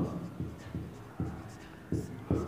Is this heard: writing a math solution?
yes